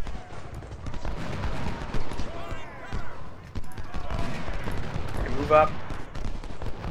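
Musket fire from skirmishers in Ultimate General: Civil War crackles as scattered, overlapping shots and volleys under someone speaking, with the gunfire spread through the whole stretch.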